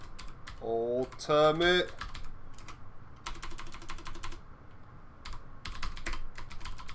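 Keys on a computer keyboard are typed in quick clattering bursts, clicking close and fairly quietly; a short synthetic voice sounds briefly near the start.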